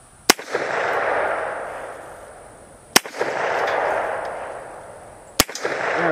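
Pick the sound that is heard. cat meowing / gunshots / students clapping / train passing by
gunshots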